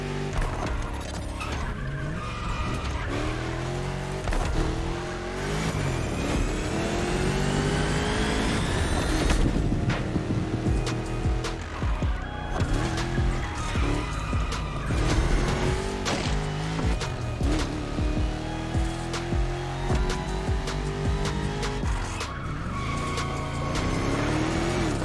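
Racing cars in the video game The Crew Motorfest, engines revving loud and close with repeated tire squeals and skids through corners, a continuous roar with shifting pitch across the whole stretch and no talking.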